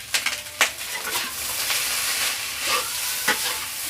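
Nasi goreng fried rice being stirred in a hot pan after oyster sauce goes in, with steady sizzling and a few sharp scraping strokes of the spatula against the pan, close and fairly loud, no talking.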